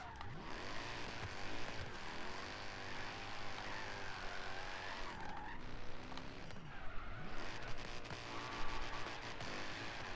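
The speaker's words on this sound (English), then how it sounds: "Oh, look at that nice drift." Mercedes SLS AMG drift build with over 900 hp in Forza Horizon 3, engine roaring steadily while tires squeal and skid through a long continuous drift, loud and close throughout.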